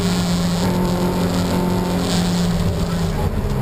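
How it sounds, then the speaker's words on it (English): On board a Toyota MR2 race car at Brands Hatch during the 2015 Millers Oils Toyota MR2 Championship, the engine drones loudly and steadily up close with road and wind roar. "Here we are on board with Mick Nichols, looking backwards then to the 5th position man, Tim Herron."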